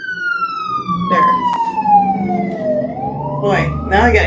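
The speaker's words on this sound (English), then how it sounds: "Well, actually, I think that's a fire truck." A fire truck siren wails outside, a loud descending tone that dips and then starts rising again as the vehicle passes, with traffic rumble and a brief voice beneath it.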